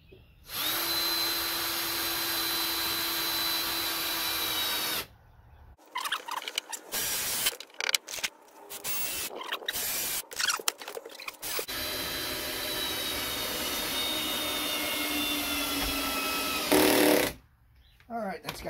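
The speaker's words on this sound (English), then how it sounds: "put a screw in it" A power driver sends screws into lattice blocks under a porch in long, loud whirring runs. Several shorter bursts and clicks come in between, and voices can be heard at times.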